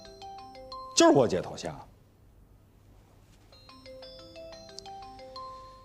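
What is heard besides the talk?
mobile phone ringtone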